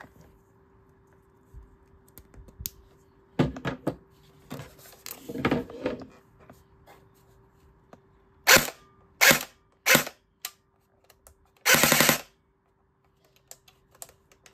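An FN SCAR-L airsoft rifle fires BBs in a series of sharp mechanical bursts, several short rapid volleys with a clicky snap, separated by pauses, close by in a quiet room.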